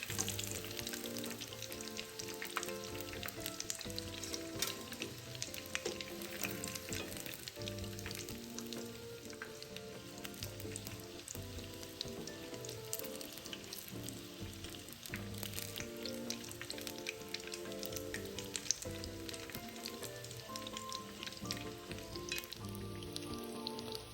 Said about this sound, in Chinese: 将已经油炸至金黄的虾球先捞出来。